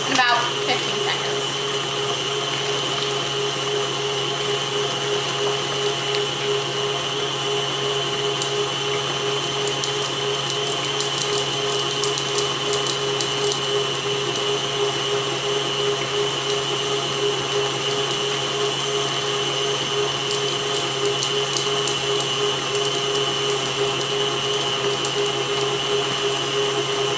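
An electric mixer runs steadily through cookie bar dough, a continuous motor whine that holds the same level without a break, close and fairly loud, with no talking over it.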